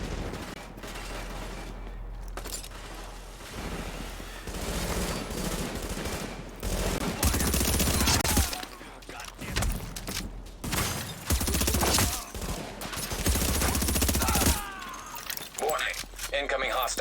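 Dense bursts of automatic gunfire crackle almost continuously in a firefight in the shooter game The Division, rattling close and loud with brief lulls, while voices and alert announcements sound over the shooting.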